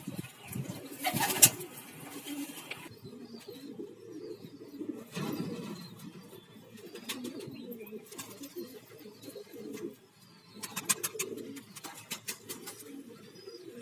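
Pigeons cooing in soft low bursts with occasional wing flaps as three pigeons fly with a hawk nearby, amid outdoor ambience and distant voices.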